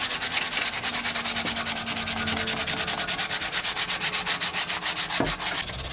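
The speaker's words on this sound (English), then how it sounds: "We're just sanding this thing nice and smooth, getting rid of the splinters and getting it cleaned up." Sandpaper of 80 grit rubbed by hand along a wooden tool handle, a steady rapid back-and-forth scratching with even strokes, close and loud throughout with no talking.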